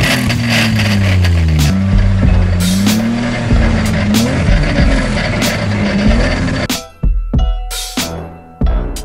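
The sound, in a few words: BMW E30 drift car exhaust sound while revving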